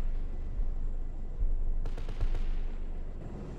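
Bursts of 30mm cannon fire from an Apache attack helicopter in Arma 3, a few sharp reports starting partway through over a steady low rumble of rotor and background noise, with no one talking.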